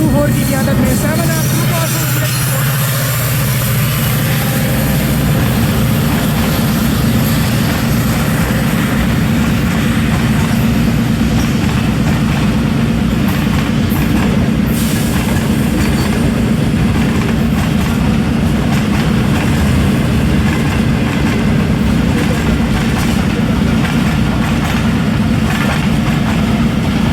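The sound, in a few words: Bulleh Shah Passenger train led by HMU 8224, running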